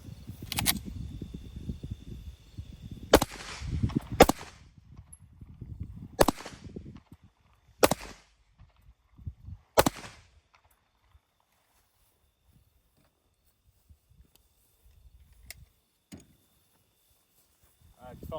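About six sharp gunshots from a Shadow Systems MR920 Glock-style pistol, fired singly at uneven intervals of one to two seconds, loud and close outdoors, with people talking around the first few shots and quiet afterward.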